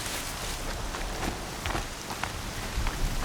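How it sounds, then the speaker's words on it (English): Steady, dense rain patter in the video game Horizon Zero Dawn, with scattered individual drops hitting a surface, continuous and fairly close, with no voices. "Here comes the rain."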